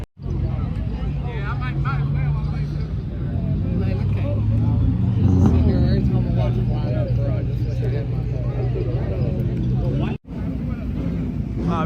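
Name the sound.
car revving and accelerating away for a race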